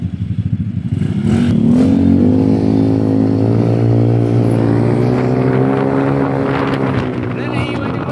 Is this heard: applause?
no